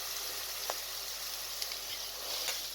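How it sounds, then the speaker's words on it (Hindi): Minced meat sizzling in a pan with onions, a faint, even frying hiss with occasional small pops and crackles, steady throughout and without talk. "कीमे को आपने इतना भूनना है कि इसका कलर चेंज हो जाए।"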